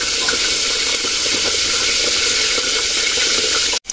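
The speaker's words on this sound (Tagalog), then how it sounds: "si mama po nagpiprito na po dito ng ating pong isda" Marinated fish frying in a pan of hot oil for Filipino pinakbet, a steady close sizzle and crackle running throughout before an abrupt brief cutoff near the end.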